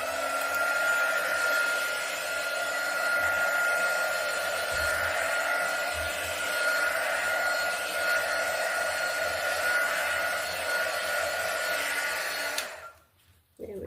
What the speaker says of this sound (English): Let me just hit it with a heat gun just one more time.